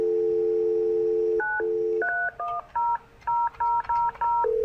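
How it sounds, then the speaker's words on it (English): Keypad tones from a telephone on a business phone system test line, dialing a local seven-digit number: a steady dial tone, then a brisk run of distinct beeps, one per digit, loud and clear with no talking. "Let's look at local 7-digit dialing."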